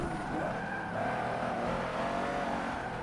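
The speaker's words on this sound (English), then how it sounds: "Oh, that's a Lamborghini." A Lamborghini in the racing game Forza Motorsport 7 roars with a steady, loud engine drone and sustained tire squeal throughout, running continuously without voices.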